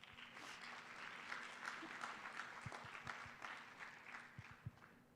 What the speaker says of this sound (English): A big applause for the ones who have come forward